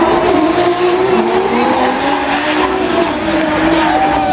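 Drift cars at the Eastern Europe Drift Championship 2014 slide with screeching tire squeal over loud, straining engines, a continuous close roar of skidding and revving throughout.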